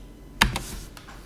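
A short burst of typing on a computer keyboard, a few quick, close clicks in a brief cluster followed by one more isolated tap, fairly quiet against a still room.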